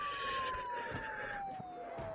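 A wailing ambulance siren in the video game Project Zomboid sounds steadily for the whole stretch, its single tone sliding slowly downward, loud and close with no talking.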